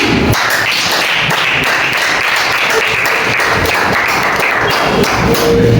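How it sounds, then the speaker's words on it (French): Dense, continuous clapping from a crowd, steady and loud throughout with no pauses. "Applaudissez encore pour toi."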